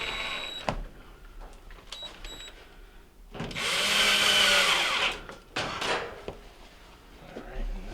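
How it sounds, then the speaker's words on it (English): A power drill drives screws through the front panel into a bracket of a Fisher & Paykel dryer, giving one sustained whirring burst of about two seconds and a shorter second burst, close, between clicks and handling knocks. "Now we're going to attach the screws from the front panel into the bracket."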